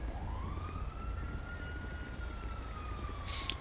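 An ambulance siren in GTA V sweeps up in a long wail at moderate distance over low engine rumble, with a brief sharp click near the end.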